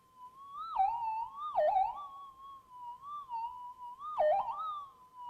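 A metal detector gives a strong target signal as a high-pitched warbling tone that rises and dips repeatedly. The tone is steady and clear, with no voices.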